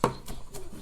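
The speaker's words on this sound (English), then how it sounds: "I'm just going to take my knife and drag it across them." A knife strikes capers on a cutting board for crab cakes: one sharp, close chop, then a faint dragging scrape across the board.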